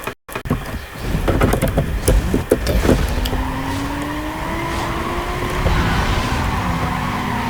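Need for Speed Most Wanted race: engines roar and tires skid and squeal loudly, a rising engine whine building over the last seconds, with a brief dropout near the start.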